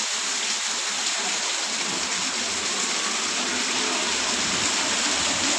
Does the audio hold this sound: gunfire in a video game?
no